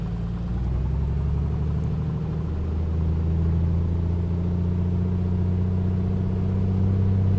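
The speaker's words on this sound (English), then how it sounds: "We've got desired tanks and throttles to 2000 RPM" Piper PA-24 Comanche engine during run-up with the throttle at 2000 RPM, a loud, steady droning rumble with a throbbing low tone that keeps on without a pause.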